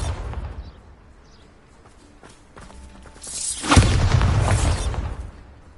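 Bombarda blasting spell in Hogwarts Legacy, a soft whoosh building into a sudden heavy boom with a rumbling, debris-filled tail that fades over about two seconds, following quieter ambient sounds.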